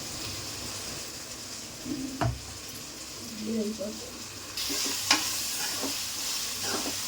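Chicken sizzles steadily in a hot pan while being stirred, with soft scrapes and occasional clinks of the spoon, and quiet speech underneath.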